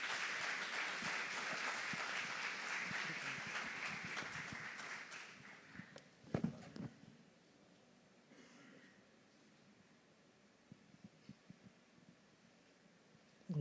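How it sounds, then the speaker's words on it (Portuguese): A church congregation applauds to welcome a missionary, a dense wash of clapping that carries for about six seconds, then fades away, leaving a quiet hall with a few scattered thumps. "eu gostaria que você recebesse ela com muito carinho, com aplauso"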